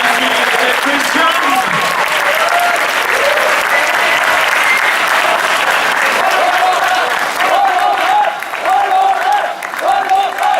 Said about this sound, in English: je vous demanderai de l'applaudir